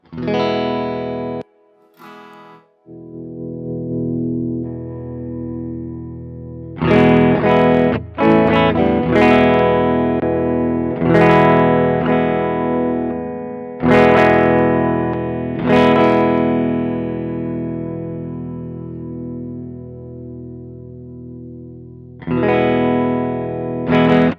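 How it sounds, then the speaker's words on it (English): Fender American Professional II Jazzmaster electric guitar on the neck pickup rhythm circuit strumming chords with sustained ringing notes and pauses between strums, warm and full-bodied, played alone without voices. "A traditional rhythm circuit where it's just the neck pickup."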